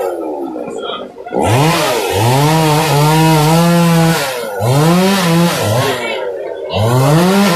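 A chainsaw cuts up a fallen tree blocking an avenue, its engine whining and rising in pitch as it bites into the wood in several long passes, loud and nearby with brief pauses between cuts.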